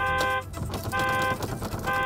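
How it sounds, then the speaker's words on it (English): A car alarm going off during a repossession, blaring a harmonic electronic tone in loud pulses that cut in and out across two seconds. "As soon as I open it, because I have to lock the steering wheel, the alarm went off."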